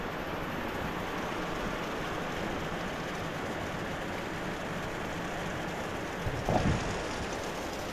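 Steady, dense monsoon rain pours throughout, with a brief louder thump or rumble near the end.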